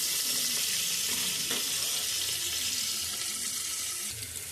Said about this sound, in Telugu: ఇలా ఉల్లిపాయ, పచ్చిమిరపకాయ కూడా వేసుకొని బాగా ఎర్రగా వేయించుకోవాలి